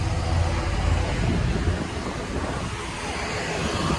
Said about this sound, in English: yeah, the helicopters are bad.